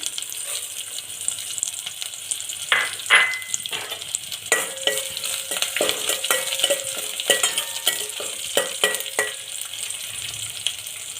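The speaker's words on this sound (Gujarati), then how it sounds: "હવે આ મગની દાળ નાખીશું" Moong dal tipped into a frying pan with oil and chillies for upma and stirred, a steady close sizzle with repeated scraping and clattering stirs throughout, no talk.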